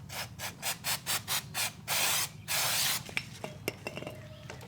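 Chain cleaner sprays onto a motorcycle chain in a run of short hissing bursts followed by two longer blasts, then light metallic clicks and handling noises, close and clear.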